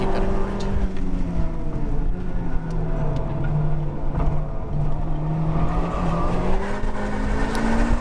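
Honda Civic Type R FK8 engine pulling hard on a race track, a steady loud drone with rising and falling pitch as the throttle is fed through a corner exit, continuous throughout with no talk.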